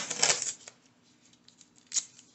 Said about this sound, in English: I'm gonna tape down my picture.